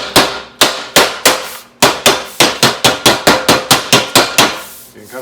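Sharp, ringing hammer blows on metal, a tire iron clamped in a vise, bending it over: about fifteen close, loud strikes in a steady, quickening rhythm, each with a short metallic decay.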